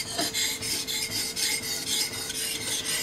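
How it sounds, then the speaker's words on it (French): A knife blade is drawn across a Belgian coticule whetstone in a steady rhythm of rasping strokes, about ten close, even scrapes with no talking. "vous n'appuyez pas sur le cuticule quand vous passez votre lame dessus"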